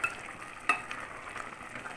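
Leafy greens sizzle softly in a pan while being stirred, with a brief clink of a utensil against the pan partway through.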